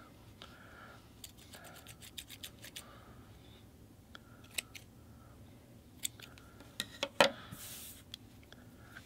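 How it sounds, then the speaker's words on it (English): Scissors snipping through yarn loops at the bottom of a mixed media wall hanging, a series of quiet, close, crisp cuts in irregular bursts with soft handling rustle between them. "I just want to grab my scissors"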